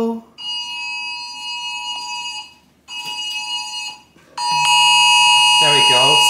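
A UK emergency alert blares from a phone as a loud, steady electronic tone, broken by two brief pauses and swelling louder at the end, with a person speaking briefly over the final stretch.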